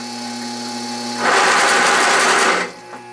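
A slow-speed DC motor drives a 1-inch drill bit into metal, the steady whirring hum jumping into a loud, rough grinding burst for about a second and a half before dropping back to a quieter idle drone.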